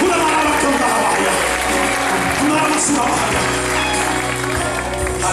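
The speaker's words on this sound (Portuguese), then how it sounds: "Só quem crê aplauda ao Senhor Jesus." A church congregation claps during a sermon, dense applause mixed with loud music and voices, steady throughout at a strong level.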